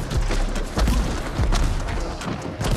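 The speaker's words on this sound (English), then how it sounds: "they started dumping off fireworks when we escaped?" Fireworks going off in Ghost of Tsushima, a dense, continuous rumble of booms and crackling thuds, loud and unbroken throughout.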